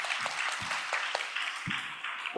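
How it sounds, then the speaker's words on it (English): An audience applauds at the official launch of a programme, a brief burst of steady clapping from many hands, fairly loud and continuous with no talk over it. "So let's clap our hands."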